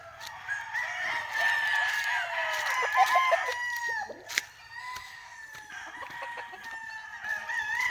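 On a farm, several roosters crow over a continuous chorus of chickens clucking, loud and close, with overlapping calls throughout.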